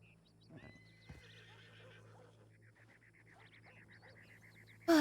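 A horse whinnies in the RedM game, a clear neigh near the start followed by hoof clip-clop and ambient game sounds, with a louder burst at the very end.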